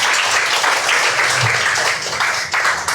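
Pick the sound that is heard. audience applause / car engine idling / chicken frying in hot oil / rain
audience applause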